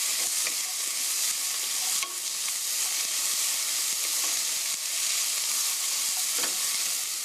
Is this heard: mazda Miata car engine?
no